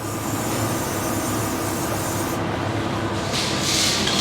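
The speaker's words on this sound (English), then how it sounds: "So basically you spray your cleaner on" A tin of dye penetrant cleaner sprays in a continuous hiss over a busy rumbling background, with a brighter burst of spray near the end.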